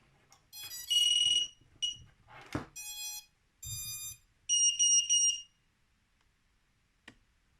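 A few short electronic beep sequences from an Eachine Novice-III drone connecting, bright and tonal, sounding in separate bursts with brief pauses and small clicks between them, close and fairly loud.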